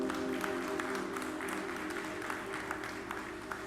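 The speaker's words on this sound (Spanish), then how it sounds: "Aplauda su nombre en esta noche." A church congregation claps and praises during a worship service, a soft, moderately dense patter of hands layered over a sustained organ or keyboard chord, fairly distant and short.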